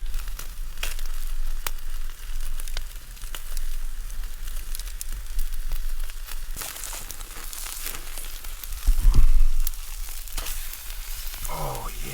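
Meat sears directly over a campfire heat at a camp in abandoned building remains, a steady close sizzle with crackles and a brief louder flare near the end.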